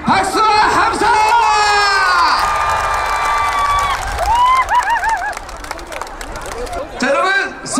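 A large outdoor crowd at a Sacheon sports festival concert erupts in loud cheering, whoops and high-pitched shouts, with clapping mixed in, a sustained roar that dips briefly before surging again.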